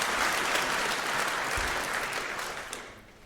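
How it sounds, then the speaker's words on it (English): A conference audience at a hacker congress gives a round of applause, dense even clapping that holds steady and then thins and fades toward the end, with no talking over it. "let's give a round of applause for the heralds and the angels"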